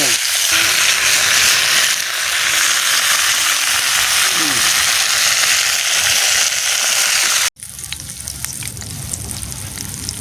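Brinjal slices fry in oil on an earthen stove set up outdoors in a field, producing a loud, continuous sizzle. After an abrupt break the crackling frying carries on a little quieter.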